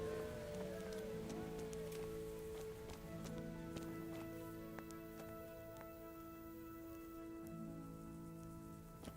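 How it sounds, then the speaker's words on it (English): Steady rain patters continuously in the video game Kingdom Come: Deliverance over a sustained musical tone, with scattered droplet clicks throughout and no break. "It's still raining."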